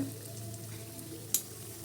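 Adhirasam, a rice and jaggery sweet, frying in hot oil gives a faint, steady low sizzle, with one brief sharper clink or crackle near the end.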